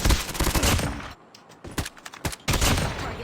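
Loud, rapid bursts of gunfire from a shotgun in Call of Duty Mobile Search and Destroy play in two clusters, separated by a quieter stretch holding a few isolated shots and clicks.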